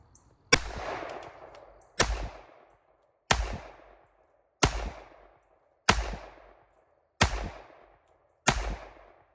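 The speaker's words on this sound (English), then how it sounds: "I'm gonna shoot past the target into the hill here just to get some rounds to it." Seven sharp .45 ACP pistol shots from a Nighthawk Predator Recon 1911, fired outdoors past a target into a hillside, evenly spaced about a second and a half apart, each loud crack trailing off in a brief echo.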